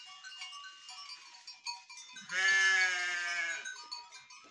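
Sheep on a farm raising crossbred Saanen goats give one long, loud bleat near the middle, with softer bleats and animal calls scattered before and after it.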